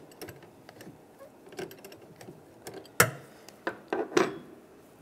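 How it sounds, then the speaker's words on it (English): A 10 mm wrench loosens the nut on the negative battery terminal of a 2007-2013 Chevrolet Silverado, giving sparse metallic clicks and taps that grow louder and sharper toward the end. "Loosen up the nut."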